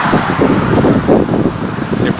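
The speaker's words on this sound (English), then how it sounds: "there's a very strong wind pushing into Minnesota." Strong wind roars across the microphone during a bike ride in eastern Minnesota, a loud, continuous gusting buffet throughout.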